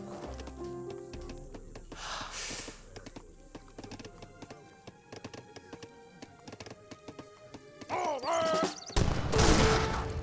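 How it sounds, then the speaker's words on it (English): Musketeers firing volleys in Age of Empires 3, with crackling bursts of musket fire among busy clicking battle effects and scattered game sounds, two louder bursts standing out near the end. "Let's get a good volley there with the musketeers."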